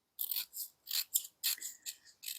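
Scissors snipping vertical slits into a paper doll-skirt pattern, a series of about eight short, crisp cuts in an uneven rhythm, close and quiet.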